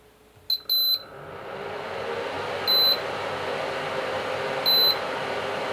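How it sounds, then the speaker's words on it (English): A tabletop induction stove gives three short electronic beeps, the first a quick double, spaced about two seconds apart over a steady low hum, alone and with no talking. "It's just beeping"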